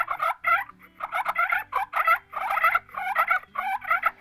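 Two turkey calls worked together imitate a fight with a rapid, overlapping double purr: agitated rolling trills chained closely in quick bursts, loud and near with no other sound.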